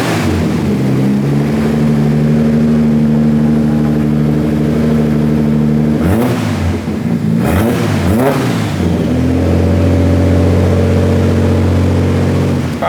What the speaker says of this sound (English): Yeah, we can start the car.